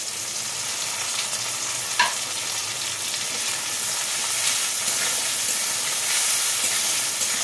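Green chillies and garlic paste fry in a pan for a Bengali tangra fish jhal chorchori, a dense steady hiss and sizzle with a brief clink near the start, continuing loud without pause.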